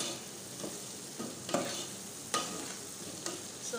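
Onions and tomatoes fry in oil in a pan, a steady broadband sizzle with a few sharp scrapes of a spoon stirring at regular intervals, close and moderately loud, no voices.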